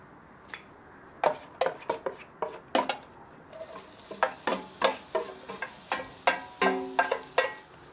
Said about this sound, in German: Und jetzt werde ich erstmal ein bisschen Olivenöl da reingießen. Und dann werden wir die Zwiebeln andünsten.